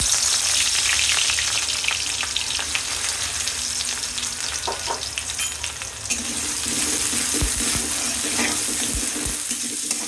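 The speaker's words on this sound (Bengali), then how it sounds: "তেল গরম হয়ে গেছে, পেঁয়াজ দিয়ে দিব" Onions frying in hot oil in a wok for a tengra fish curry give a steady, dense sizzle that runs throughout, close and fairly loud, with a few light stirring knocks and no talk.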